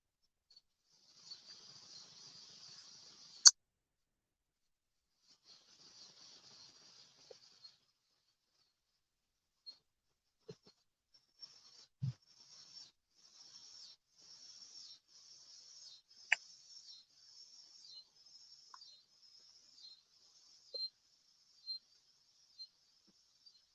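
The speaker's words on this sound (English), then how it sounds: "Can y'all hear them cicadas above me? They're all up in these trees." Cicadas in trees beside a lake while bank fishing for catfish, a faint pulsing buzz that comes in repeated rising bursts through the second half, with scattered soft clicks and knocks nearby.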